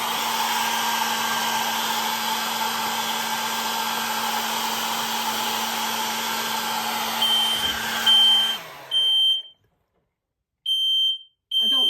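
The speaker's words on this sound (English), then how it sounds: "let's just blow dry this right quick with the blow dryer" A hair dryer blows steadily and loudly over a painted wooden sign for about eight seconds, then cuts off as a smoke alarm gives several sharp, shrill beeps with brief silent gaps between them.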